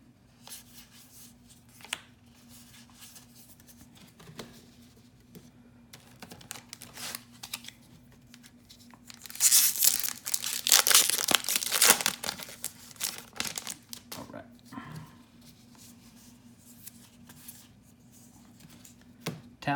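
Modern Horizons Magic: The Gathering booster packs are torn open, with a loud burst of foil crinkling and ripping in the middle surrounded by quieter handling and rustling of packs and cards, close up with no talk.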